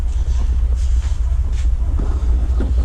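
A homemade buggy built from a lawnmower, with a tuned-up motor, rumbles steadily and loudly up close as it runs on a test drive, a continuous low engine drone with slight fluctuations.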